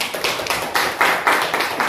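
Students in a 12th-grade madrasah Qur'an Hadith class applaud together with steady, evenly spaced claps, a brief, moderately loud round in a classroom.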